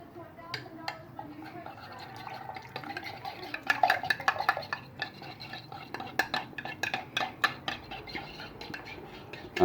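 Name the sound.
mixing seasoning paste with water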